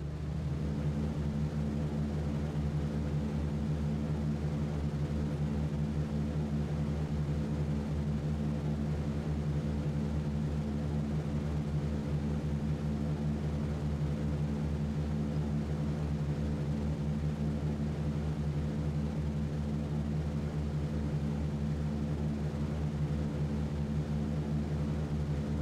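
B-17 bomber engines at takeoff in a flight simulation game, a steady droning propeller roar with a constant low hum that continues unbroken and fairly loud throughout, with no voices.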